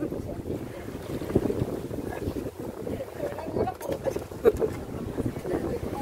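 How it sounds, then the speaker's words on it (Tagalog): Strong wind roars across the microphone during a boat ride on open water, a steady gusty rumble with splashing texture, while people talk over it. "Malakas, malakas ang hangin, malakas."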